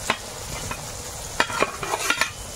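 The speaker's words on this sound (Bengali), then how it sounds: "কচুরমুখি ভালো হয় সেদ্ধ হয়ে গেছে, এবার মাছটা দিয়ে দেবো।" Fish dropped into a taro curry in a pan sizzles softly under a low steady crackle, with several sharp scrapes and clinks of stirring clustered near the end.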